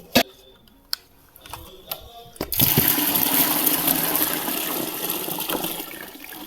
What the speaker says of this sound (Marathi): आता नवीन पाणी टाकून ठेवणार आहे